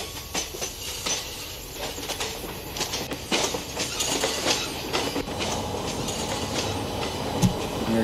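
The Deccan Queen, an Indian Railways train, accelerates along the main line with a loud, steady rumble. Rhythmic clickety-clack from the wheels and occasional faint squeals run throughout, and no one speaks.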